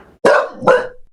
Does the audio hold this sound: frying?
no